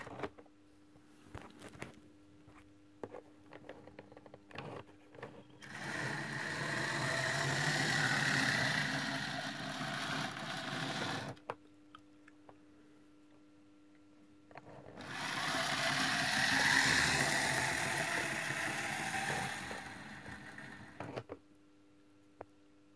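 A Piko model electric locomotive from the former GDR, about 55 to 56 years old, runs along the track in two long passes. A steady motor whir swells and fades each time, with quiet clicking in between.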